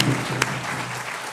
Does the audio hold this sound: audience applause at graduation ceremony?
yes